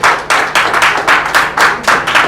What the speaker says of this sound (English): can we just give our lecturer a warm clap?